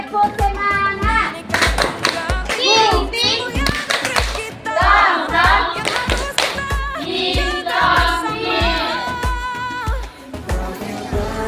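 Children clap in a steady rhythmic pattern while chanting together in a sing-song classroom cheer, their sharp hand claps evenly spaced beneath the group voices.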